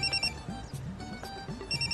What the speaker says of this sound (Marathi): फोन वाजू राहिला तुमचा.